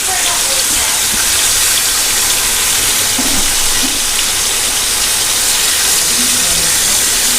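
Karimeen pearl spot fish frying in a pan of oil, turned to crisp fully on both sides, giving a steady, dense close sizzle and hiss that runs unbroken throughout.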